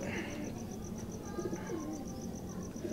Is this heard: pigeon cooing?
yes